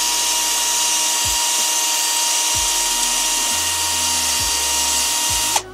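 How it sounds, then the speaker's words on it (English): A Dremel rotary tool whines at a steady high pitch while grinding inside a motor pinion for an electric skateboard gear drive, with faint intermittent scraping bumps underneath, then cuts off abruptly at the end. "slightly Dremel the inside of the motor pinion as well"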